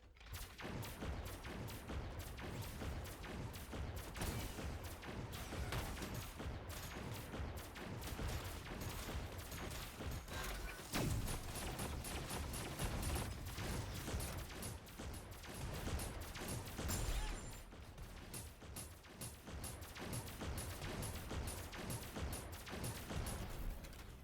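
Rapid, sustained weapon fire from the mech Aurora's primary attack in Super Mecha Champion, a continuous loud burst of shots and booms running without pause.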